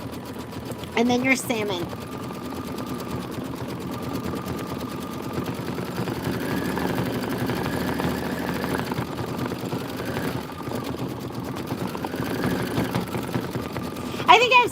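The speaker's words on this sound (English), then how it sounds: "So we're going to stitch flower 4 satin outline." An embroidery sewing machine stitches a satin outline on a Kimberbell County Blooms pillow, its steady mechanical whir running continuously near and fairly loud, with someone talking briefly over it at the start and end.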